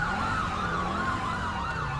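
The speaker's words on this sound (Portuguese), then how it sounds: "vamos escoltar a ambulância aí para o hospital mais próximo" An ambulance siren in GTA V wails continuously with a rising and falling tone, loud and close, over a low engine drone with no talking.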